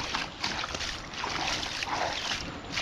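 Slippers are washed with water outdoors in a rural Malvani village setting. Close, continuous splashing and trickling water runs steadily throughout.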